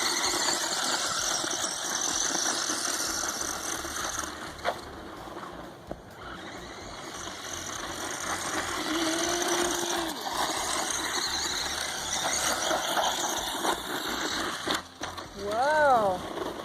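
A small Rolytoy remote-control toy motor whines at full throttle on a partly charged battery, a sustained high buzz with brief pitch swoops near the end. Voices speak over it.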